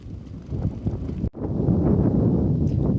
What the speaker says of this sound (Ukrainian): Трохи сьогодні такий навіть є вітер